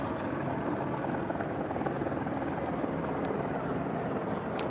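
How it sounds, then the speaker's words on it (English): Helicopters fly overhead above a live protest at UCLA, their rotors producing a constant loud, churning drone that fills the scene without letup. "out here it's just a average everyday experience where you're getting buzzed by choppers"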